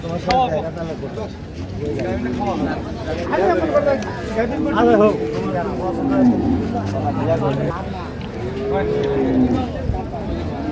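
Dairy cows and calves low at a busy cattle market in Raniganj, Dinajpur, with several deep moos rising over steady crowd chatter and nearby talk.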